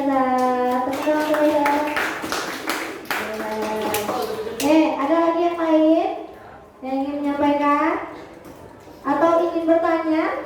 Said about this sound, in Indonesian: Tepuk tangan, Azhar.